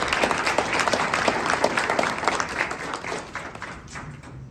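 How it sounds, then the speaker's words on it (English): An audience at a design event applauds, a dense wash of clapping that holds steady and then gradually thins out toward the end. "So a round of applause,"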